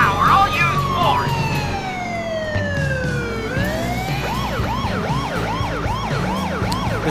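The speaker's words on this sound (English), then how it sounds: "This siren's called Movie Siren." A police siren mod called Movie Siren in the video game GTA IV with LCPDFR, loud and close, first sweeping in long falling tones, then switching to a fast rising-and-falling yelp that repeats steadily.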